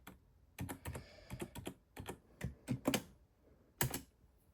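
Java code being typed on a computer keyboard: irregular bursts of close, crisp key clicks in quick clusters with short pauses between them, no voice present.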